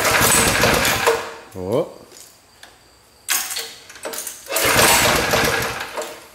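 An Ariens garden tractor engine being cranked with choke: strained starter cranking bursts, a brief pitch-rising whine, then loud rough engine roar in stretches, with a short spoken exclamation between.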